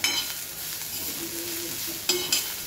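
Chillies, garlic and coriander are stirred and dry-roasted in a pan with the gas turned off, giving a steady soft scraping sizzle with a few sharper utensil scrapes near the end, close and without talk.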